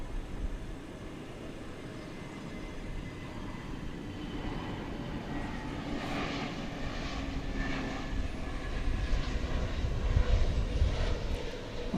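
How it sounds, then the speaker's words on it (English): An Avianca airliner from San Salvador approaches DFW Airport, its engine roar building gradually from a soft rumble to a louder whine and roar near the end, with no speech. "Here comes the Avianca flight from San Salvador."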